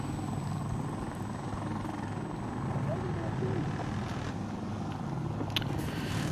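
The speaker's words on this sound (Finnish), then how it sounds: "tuolla on kopteri ilmassa" A helicopter hovers overhead in the video game Insurgency Sandstorm, its steady rotor drone and engine whine filling the scene at moderate loudness, with faint game sounds and intermittent voices over it.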